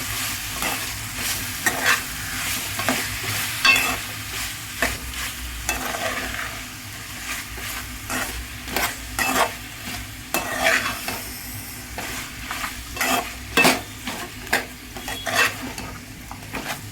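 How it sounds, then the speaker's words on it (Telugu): Marinated chicken for curry fries in a pan with a continuous sizzle, punctuated by regular scraping and clattering strokes of a spatula stirring against the metal. "ఒక 2 నిమిషాలు వేయించాలండి ఇలా."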